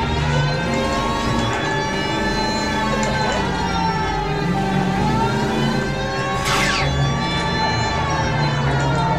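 A wailing police car siren in the video game L.A. Noire, loud and continuous throughout with engine rumble beneath.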